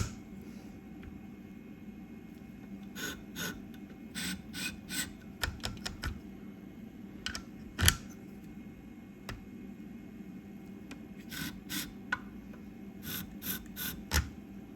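Scissors being sharpened on a Twice As Sharp sharpener: a steady low rasping rub with a run of short, sharp scraping strokes, some spaced and some in quick bursts, close up with no talking.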